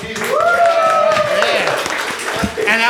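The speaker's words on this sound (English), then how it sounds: "Round of applause for our volunteers." An audience at a live comedy show claps for volunteers, steady applause mixed with voices and shouts over it.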